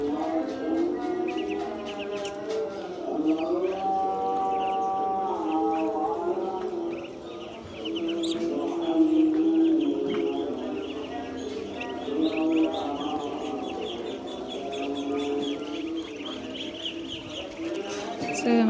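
A flock of farm-raised ducks eating feed and drinking water, giving off repeated quacking and clucking calls at close range, with occasional quiet talk nearby.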